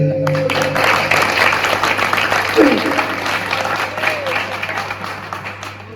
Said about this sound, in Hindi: ढंग से ताली बजा के